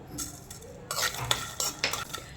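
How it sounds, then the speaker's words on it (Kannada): Poppy seeds and fennel seeds dry roasting in a pan with peanuts for a drumstick curry make a light rattling scrape as a utensil stirs them in short, uneven bursts, close and alone. "ಬೀಜ ಸ್ವಲ್ಪ ಹುರ್ಕೋಬೇಕು. ಗಸಗಸೆ ಮತ್ತು ಸೋಂಪು."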